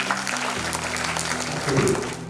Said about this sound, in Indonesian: Tepuk tangan buat Kang Afif